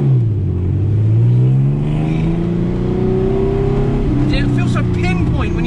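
TVR Sagaris British supercar engine heard from inside the cabin, loud and rising steadily as it accelerates through the gears, with a person talking over the roar.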